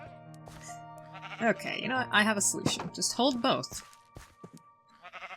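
Sheep in the Minecraft video game bleat repeatedly at close range while someone talks over them, several wavering bleats clustered together.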